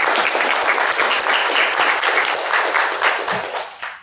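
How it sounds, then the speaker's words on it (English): Loud applause from an audience at a speaking event fills the room, dense and sustained, then tapers off near the end. "Please give everybody a round of applause."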